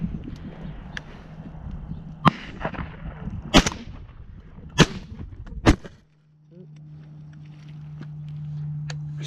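Shotgun blasts ring out during a dove hunt outdoors, five sharp reports spaced a second or so apart, followed by a quieter stretch with a low steady hum.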